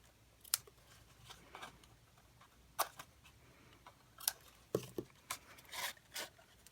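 Card stock for a Stampin' Up tall treat box is trimmed in a quiet room, with faint sharp snips and clicks scattered across the moment, some in quick pairs, over low background hiss.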